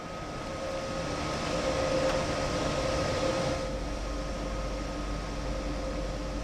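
Inside a quiet train cab car, with the motors and fans at the far end of the train, a steady low rumble and airy hiss run evenly throughout, with no voices.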